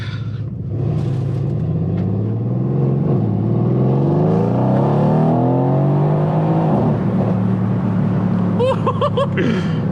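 A 604 bhp Mercedes C63S AMG in Sport Plus mode roars loudly and steadily under acceleration, its engine note rising and falling through the gears close to the listener, with a few sharp crackles near the end.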